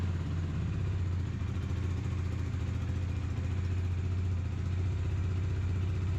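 A first-generation BS2 Bajaj Dominar 400 fitted with a dual barrel exhaust muffler runs steadily close by, a deep bassy drone holding even throughout with no talk.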